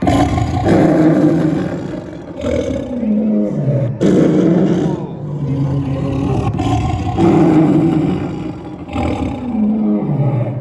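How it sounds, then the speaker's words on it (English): A saber-tooth cat roars inside a cave, a series of loud, deep, drawn-out growling roars in repeated bursts, close and echoing, with no talk over them. "we have encountered a roaring saber-tooth in the cave"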